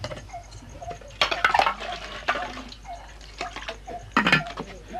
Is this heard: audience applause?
no